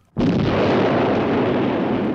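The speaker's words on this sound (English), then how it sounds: "Explosion!" An explosion set off with a detonator plunger in a Joe 90 episode hits suddenly and loudly as a broad roaring blast, then sustains as a heavy rumble without fading for about two seconds.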